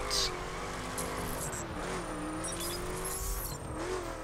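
A car runs a slalom test in the racing game The Crew, its engine holding a steady, close drone that rises and dips in pitch as it weaves, with faint tire squeal.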